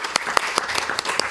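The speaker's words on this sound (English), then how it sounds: "please give Michelle a round of applause" Applause at a city council meeting, a brief burst of many hands clapping in a room, steady and moderately loud.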